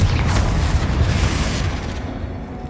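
A loud, booming fire-spell explosion from the Hogwarts Legacy video game, Confringo striking during a dragon battle, one heavy rumbling blast that fades over a few seconds.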